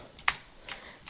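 Computer keyboard typing, a few faint, sparse key clicks with one sharper tap, quiet and close.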